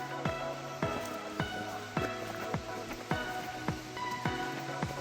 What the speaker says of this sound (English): it sounds like the seasonal waterfall is falling